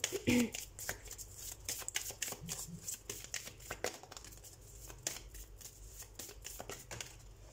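A tarot card deck is shuffled and handled up close, with quick papery riffles, flicks and soft slaps of cards, faint and steady with no talking.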